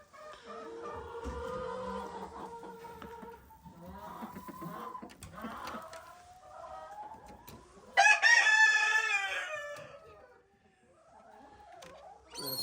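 Rhode Island hens on a farm cluck and squawk close by in bursts, with one loud, rising crow-like call partway through, then softer clucking trailing off.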